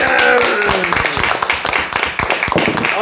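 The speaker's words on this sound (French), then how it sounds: "Applaudissements pour le Seigneur." Loud, close congregation clapping during a French-language church service, sharp irregular hand claps from many people, with a voice faintly audible beneath at the start.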